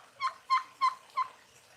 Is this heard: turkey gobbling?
yes